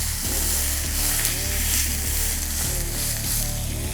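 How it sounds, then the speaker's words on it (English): Steak pressed into a hot pan on a fire-fed BBQ oven sizzles steadily and loudly for the whole stretch, a dense continuous crackle with low hum underneath. "When it sizzles, that's the right sound."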